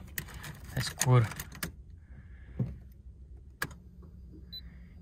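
Car keys for a Nissan Skyline R34 jangle close by inside a dark car, in a few quick metallic bursts with light clicks over a low hum, while someone speaks briefly.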